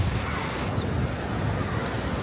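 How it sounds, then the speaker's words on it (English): Steady trade winds and ocean surf at Kahala beach in Hawaii, a continuous broad wash of wind buffeting the microphone over rolling waves, with no talk. "I can feel that we have some trade winds."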